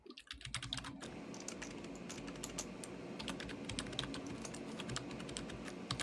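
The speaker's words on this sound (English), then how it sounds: "Sorry about the typing, y'all." Rapid, continuous typing on a computer keyboard, close and steady, with dense clicking keystrokes filling the whole stretch and no talk over it.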